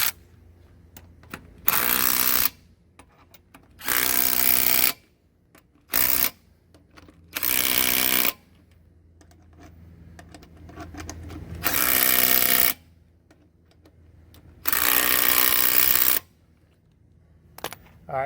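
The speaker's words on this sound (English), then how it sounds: "now that impact is just a little 3/8 impact" Small 3/8 impact wrench tightening lug nuts on a car wheel after a tire plug repair: five loud bursts of rattling hammering, each roughly half a second to a second long, separated by quiet pauses, with no talking.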